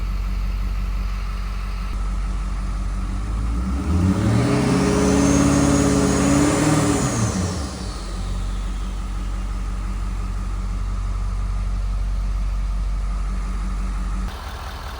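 A Ford 6.7 Powerstroke diesel truck engine idles with a deep steady rumble, then revs up and back down in one rising and falling sweep before settling into its low idle again, close and loud.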